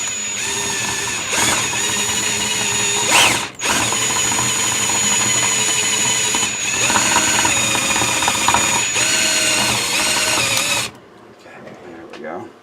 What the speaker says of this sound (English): You've got to kind of work the drill around because the rivet wants to.